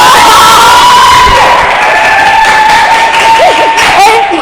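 A loud, dense crowd cheers and shouts continuously, with high excited voices rising above the roar, heard during a Chame Thailand live Facebook stream.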